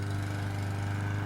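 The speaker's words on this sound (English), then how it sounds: "Pardon the lawnmower." A neighbor's lawn mower runs steadily nearby, a constant droning engine hum with no pauses over the short stretch.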